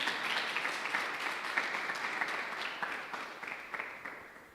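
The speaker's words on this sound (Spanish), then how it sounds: "¿Le damos un aplauso al Señor?" A church congregation at a Sunday evangelical service applauds, a fairly faint, steady patter of many hands that slowly tapers off over a few seconds.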